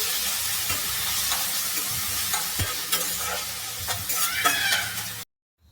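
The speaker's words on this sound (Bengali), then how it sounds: "দেখুন টমেটোটা দিয়ে দিয়েছি এটাকে আমি নাড়াচাড়া করবো" Chopped tomatoes being stirred in a hot pan for vegetarian khichuri, a loud steady sizzle with repeated close spatula scrapes and clicks, cutting off abruptly at the end.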